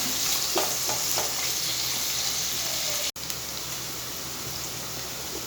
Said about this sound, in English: And again we'll saute this for 1 to 2 minutes.